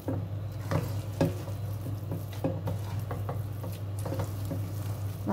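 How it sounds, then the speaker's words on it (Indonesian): Radish cake batter being stirred in a pan on the stove, soft repeated scraping strokes and faint sizzle at a close, quiet level, with steady low kitchen hum underneath and no talking. "Kita aduk seperti ini, harumnya sudah masya Allah nikmat sekali."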